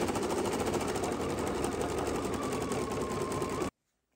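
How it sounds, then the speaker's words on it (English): An embroidery machine satin-stitches appliqué cuffs in green thread, a loud, close, rapid mechanical chatter that runs steadily before cutting off abruptly into silence. "I'm using that exact same green, 5415, to sew the rest of the cuffs satin stitching down"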